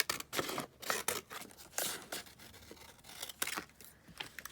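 Scissors snip through scrap paper in a quick run of crisp, close cuts that come in uneven bursts, with small rustles of the sheet between them.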